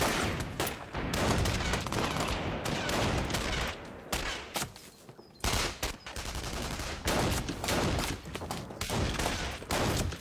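Covering fire in a war film scene crackles as dense, rapid bursts of gunfire, continuous volleys with brief gaps, loud and close, with no speech over it.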